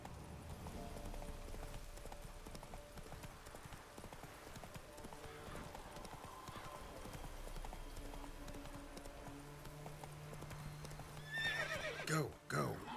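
A horse in The Witcher video game gallops with a steady, rapid clip-clop of hooves and gives a sharp whinny near the end, close and clear, with brief spoken words over it.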